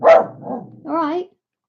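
A dog barks nearby, a loud sharp bark followed by a softer second bark and a longer whining, tonal yelp, all within under two seconds in an indoor room during polymer clay sculpting.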